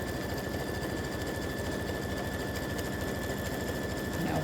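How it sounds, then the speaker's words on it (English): A sewing machine runs a continuous triple stitch across a mug rug, a steady rapid mechanical whir heard close and alone, growing slightly louder at the end. "you want to have that triple stitch, and it's right on the inside of the stitch that just stitched"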